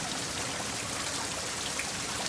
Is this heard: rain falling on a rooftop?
yes